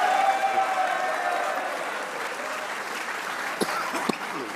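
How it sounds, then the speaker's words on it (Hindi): A crowd claps for Shaheen after an India–Pakistan T20 World Cup match, full steady applause that tapers slightly toward the end, with faint voices mixed in. "एक बार इस परफॉर्मेंस पे शाहीन के लिए तालियां होनी चाहिए"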